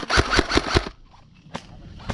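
An airsoft gun fires in a quick burst of four snappy shots up close, then a lull, then a few more isolated pops during outdoor airsoft play.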